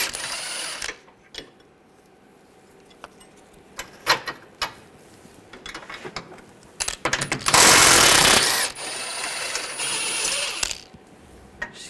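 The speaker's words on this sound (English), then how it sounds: "Using an 18mm wrench on the nuts, up top here, and then 18mm socket," Ratcheting and clanking from an 18mm socket and wrench working control arm bolts loose on a 2013-2015 Chevrolet Malibu, with scattered metallic clicks, then a loud sustained buzz of a power tool midway before the ratcheting resumes.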